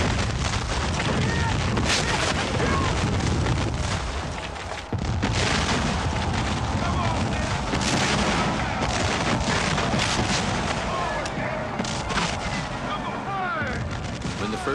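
A Pickett's Charge reenactment at Gettysburg brings thunderous cannon and massed musket volleys, a continuous loud roar of booms and crackling shots that never lets up.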